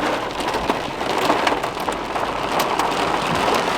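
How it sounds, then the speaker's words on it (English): Heavy rain pours down during a severe thunderstorm at a truck campsite, a dense, steady hiss of drops drumming on surfaces, loud and unbroken throughout. "It's pouring rain."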